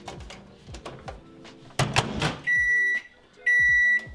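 Clicks and clatter of handling, then a microwave oven's beeps as it starts making popcorn: two sustained electronic tones, loud and close.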